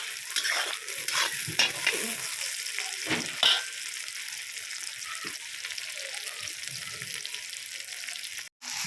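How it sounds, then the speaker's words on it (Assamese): Onions frying in a pan, a continuous bright sizzle punctuated by repeated spatula stirs and scrapes, close and fairly loud, with a brief cut near the end. "পিঁয়াজখিনি অলপ ৰঙচুৱাকৈ ভাজি ল'ম"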